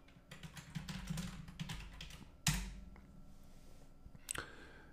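Keys clatter on a computer keyboard as domain names are typed into a browser, a quick irregular run of close taps with a couple of sharper clicks and short pauses.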